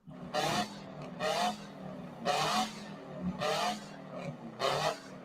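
A two-stroke diesel engine is revved in five evenly spaced bursts, each swelling into a rough, raspy roar and falling back to a low idle between, heard close with no talking.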